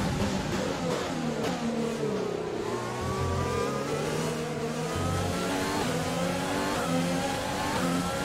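Formula 1 race cars in the F1 2020 game roar continuously at high revs, engine pitch sweeping up and down through gear changes as cars jostle and overtake, loud and close throughout.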